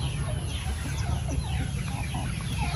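Faint turkey gobbles and clucks from the flock, somewhat distant, over a steady hissing background.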